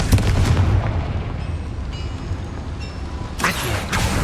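In the Hogwarts Legacy game, the Confringo fire spell goes off as a booming, explosive blast with a rumbling low tail, followed by a sharp burst near the end.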